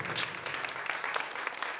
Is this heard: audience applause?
yes